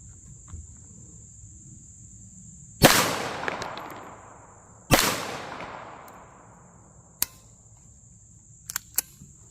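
Two loud, sharp pistol gunshots fired at concrete blocks, each followed by a long decaying echo, a couple of seconds apart, then a few faint clicks, with a steady high insect-like whine in the background.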